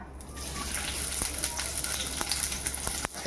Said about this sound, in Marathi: तेल आपलं गरम झालं आहे दालचिनी आणि लोंग तेलात टाकून घेते मी त्याच्यानंतर हा कांदा